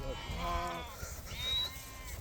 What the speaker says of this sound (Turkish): Güzel kişinin koyunlarını görürsünüz ana